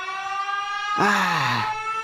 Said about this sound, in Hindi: सायरन हेड खुशी से तेज सायरन बजाता है